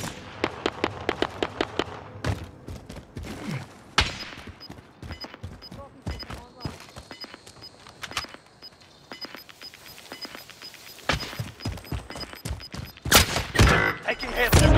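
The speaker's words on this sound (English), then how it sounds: "Receiving hostile fire." Gunfire in Black Ops Cold War: rapid crackling bursts of shots, some near and sharp, others distant, in uneven volleys throughout, thickening into a dense flurry toward the end.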